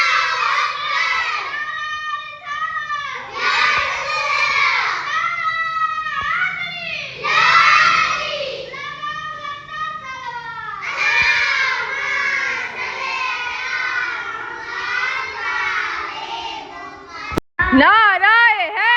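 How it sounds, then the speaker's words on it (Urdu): Children chanting religious slogans together before a Muharram majlis, rhythmic group shouts in repeated phrases with a crowd behind them, loud and close, and a brief sharp knock near the end. "بس یہاں پر بچے آ گئے تھے مجلس شروع ہونے سے پہلے اور نعرے لگا رہے تھے"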